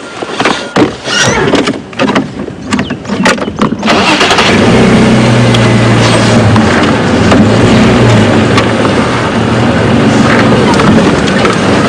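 A safari game drive vehicle at Djuma Game Reserve starts with a few rough knocks and then settles into a loud, steady engine rumble while reversing, close and continuous.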